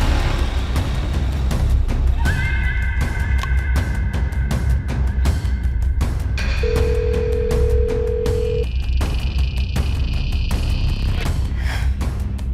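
A telephone rings unanswered in a TV crime drama, a run of electronic tones and beeps over a low background, with no speech.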